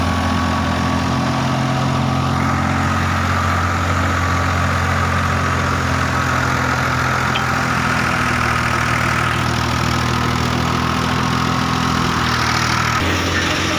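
A farm tractor idles steadily after hauling a load of wheat, its low engine drone loud, close and unbroken throughout, with no speech.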